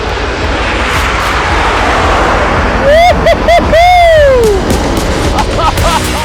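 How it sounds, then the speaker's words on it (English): A loud, continuous jet roar passes overhead during a road race, with high whistling tones sweeping down in pitch. "The plane's coming."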